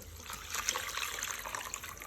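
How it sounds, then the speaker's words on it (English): Water pouring steadily into a saucepan while making palm nut soup, a continuous close trickling and splashing with no talking. "I'm going to add water to this"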